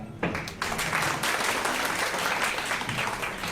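An audience at a business motivational talk breaks into applause, a dense, steady clapping from many hands that starts suddenly and carries on to the end.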